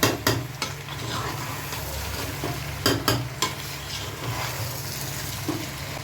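Chicken, potato and pointed gourd with spices are stirred in a pan, with scattered sharp spatula scrapes and clinks against the pan over a soft sizzle.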